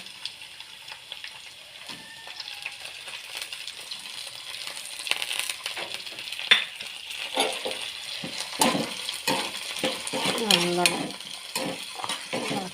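Tomatoes and tamarind go into a hot pan for an anchovy fish dish, giving a close, steady sizzle broken by scattered clinks and scrapes of a spoon against the pan.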